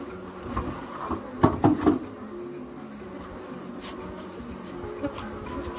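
Bees buzzing close around a beehive while old frames are cycled out, with a steady drone and sharp nearby buzzes that flare briefly, plus a few faint handling sounds.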